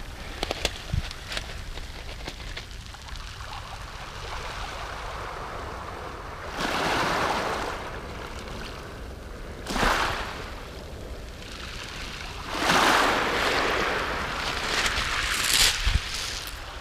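Ocean surf breaking on a shore, with broad washes of noise swelling and receding every few seconds, fairly close and without voices.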